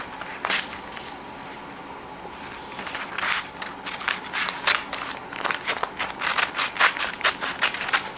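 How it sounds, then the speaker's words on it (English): Scissors snipping through embroidery applique fabric beside an MT 1501 15-needle embroidery machine, a series of close, crisp cuts that start sparse and grow into a quick rhythmic run of snips. "So I'm just going to cut that out."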